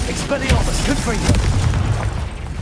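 Booming magical blasts from a Confringo explosion spell in Hogwarts Legacy, heavy low thuds and bursts mixed with a voice speaking over them.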